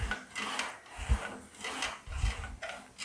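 An English wheel rolls a metal front fender panel for a 1940 Ford Coupe-inspired build, making repeated rhythmic back-and-forth rasping passes that swell and fade, close and moderately loud, with no talking.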